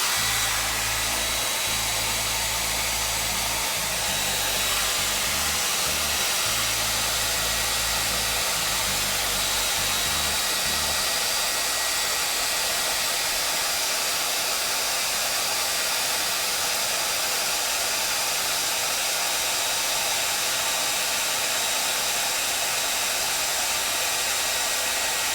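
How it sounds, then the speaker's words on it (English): A hair dryer runs continuously with a steady, loud whooshing whir, a low hum underneath at first, no voices. "Grab the hair dryer, hook the hair dryer up,"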